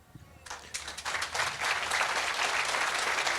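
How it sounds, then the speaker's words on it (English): Audience at a climate change panel bursting into applause, starting sparse with a few claps and building into steady, full clapping that continues to the end. "You're clapping, so I hope that's the right answer."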